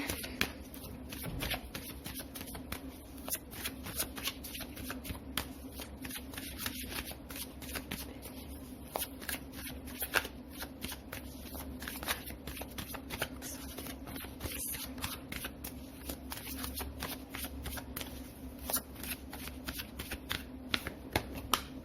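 Tarot cards are shuffled continuously for about twenty seconds, a steady, close run of soft riffling and slapping that is fairly quiet throughout, with no voices.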